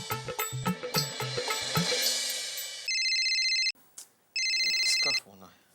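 After some clattering, a phone ringtone sounds in two loud electronic bursts separated by a short gap.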